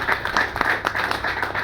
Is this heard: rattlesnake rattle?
no